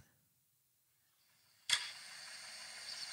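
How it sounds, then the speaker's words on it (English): A basketball drops through the hoop into the net with a sudden sharp hit, followed by a sustained airy rustle. A faint hiss comes before it. "I found a video online where I saw the basketball go in the hoop and it made this sound."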